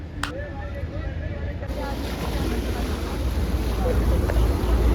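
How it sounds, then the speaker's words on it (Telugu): A speed boat ride on the water near the Taj Hotel in Mumbai: a steady, close roar of wind and engine that grows louder over time, with a brief voice-like tone near the start. "చలో మనం ఇప్పుడైతే బోటింగ్ వెళ్తున్నాం. ఏదో స్పీడ్ బోటింగ్."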